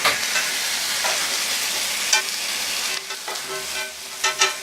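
Cod fillets frying in a hot pan, a broad continuous sizzle that fades slightly partway through, with occasional sharper crackles and spatters.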